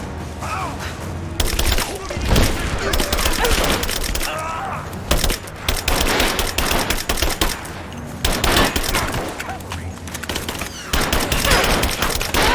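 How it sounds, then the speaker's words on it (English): Dense bursts of automatic covering gunfire in the video game Rise of the Tomb Raider, loud rapid volleys in repeated runs with brief gaps, close and harsh. "Laying down covering fire!"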